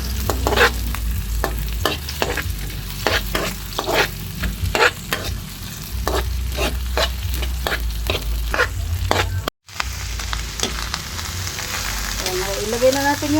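Vegetables sautéed in a pan, a constant frying hiss punctuated by rapid rhythmic scraping strokes of a spatula, close and loud, broken by a brief gap before quieter sizzling resumes.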